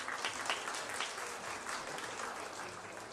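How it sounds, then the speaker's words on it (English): A crowd applauds for kids at a county livestock association preview show, steady dense clapping filling the room for a few seconds at a fairly even level. "these kids a big round of applause."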